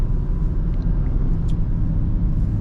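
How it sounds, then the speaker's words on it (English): A steady, low six-cylinder diesel engine drone with road rumble from inside a moving Land Rover Defender 130, continuous and fairly loud. "quite a nice sound from that 6-cylinder diesel engine"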